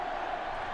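Dense, steady stadium crowd roar from NCAA Football 06, a continuous loud wash of cheering voices with no breaks over the brief moment.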